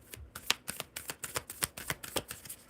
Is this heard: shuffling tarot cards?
yes